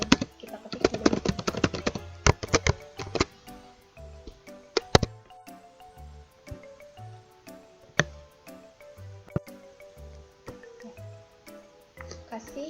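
Fingers type on a computer keyboard while entering spreadsheet formulas, with a rapid burst of keystrokes at the start and scattered clicks afterward. A person speaks quietly underneath throughout.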